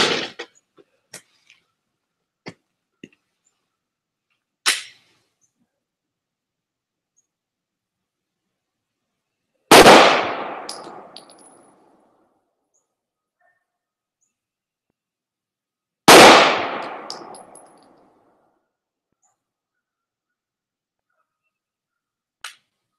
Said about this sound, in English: We'll shoot from here, I guess.